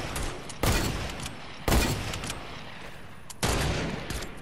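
Gunfire during a Fortnite battle: three loud, broadband bursts of shooting at roughly one-second gaps, each decaying into rough noise, with no speech.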